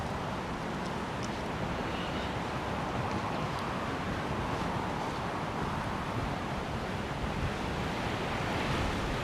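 Strong wind gusts roar steadily across the Oahu, Hawaii shoreline, mixed with crashing ocean surf. The noise is loud and continuous throughout, with no talking.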